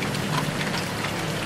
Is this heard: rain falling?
yes